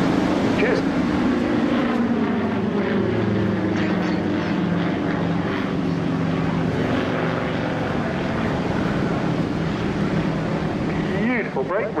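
Propeller aircraft flying a display pass at a seaside airshow, with a steady droning engine roar that stays loud throughout and shifts in pitch as the planes pass, under a commentator talking over a loudspeaker.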